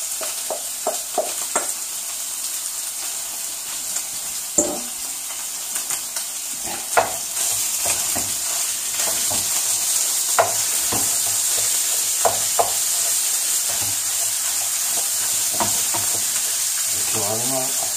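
Two kinds of meat frying in olive oil in a pan, a continuous sizzle with scattered utensil scrapes and clicks, close and fairly loud, with brief speech in places.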